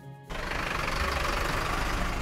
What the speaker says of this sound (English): However, the sound of this engine